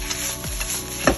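Hong Kong noodles stir-fried with bean sprouts and spring onion make a short burst of sizzling while a utensil scrapes and clacks in the pan.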